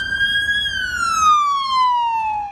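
An ambulance siren wails, sweeping slowly down in pitch, loud and steady, with rich harmonics over a low traffic rumble; no voices.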